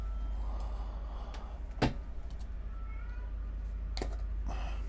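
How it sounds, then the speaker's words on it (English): A house cat meows once, a short clear call mid-clip, then a few fainter sounds, all heard indoors over a steady low hum in a room where an electronics soldering job is underway. "My cat's meowing again."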